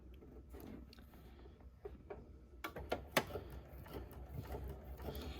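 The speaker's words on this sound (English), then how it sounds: "I'm just going to straight stitch right along the edge here." A sewing machine straight-stitches along a fabric edge, giving soft, quiet mechanical ticking with a few sharper clicks, fairly close with no speech.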